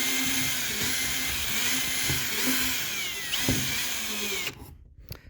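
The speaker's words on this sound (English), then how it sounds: "this 5/64 bit, which I've got lined up for this next hole, is just a little undersized for the hardware. So we are going to have to bore this out" A power drill bores out a small screw hole in a kayak's gel-coated deck with a 5/64 bit, whining steadily at close range for about four seconds before it stops, leaving brief faint handling noises.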